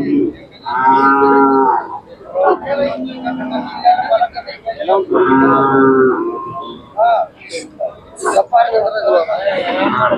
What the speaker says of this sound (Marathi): उंच, लांबलचक, मोठ्या मापाची गाय आहे